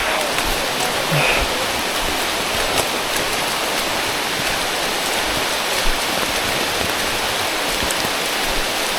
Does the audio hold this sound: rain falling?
yes